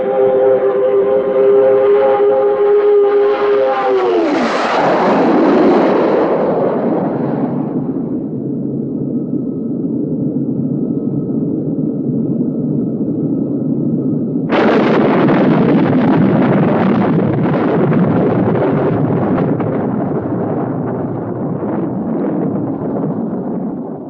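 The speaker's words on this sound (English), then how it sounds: "Goliath is going to explode." Goliath explodes in a long, loud roar: a rising, then falling, siren-like whine gives way to a heavy rushing rumble, then a sudden second burst of noise that slowly fades.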